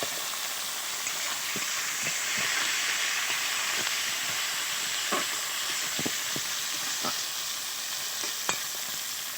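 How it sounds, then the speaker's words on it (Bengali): Chopped onions frying in oil with black cumin, a loud, continuous close sizzle with occasional light clicks from stirring. "পেঁয়াজ কুচনোটা দিয়ে এবার একটু ভেজে নেবো পেঁয়াজটা"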